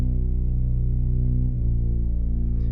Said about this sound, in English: This is sort of the drone that you hear during the breakdown.